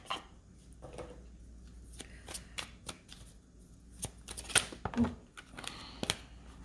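A tarot card deck being shuffled in a quiet room, with repeated soft riffling snaps and flicks of cards arriving in uneven bursts, close and fairly faint.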